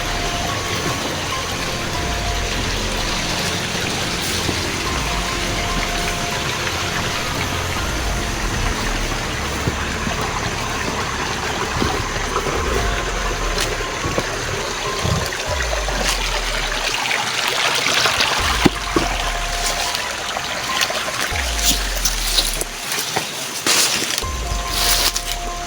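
River water flows steadily in a video game, a continuous broadband rush with faint low engine-like rumble beneath, holding at an even level throughout with no talking.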